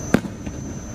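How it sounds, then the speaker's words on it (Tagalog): A single loud firework bang at Enchanted Kingdom theme park, followed by a softer echoing pop and faint crackle against a steady background hum. "Ganda ng fireworks."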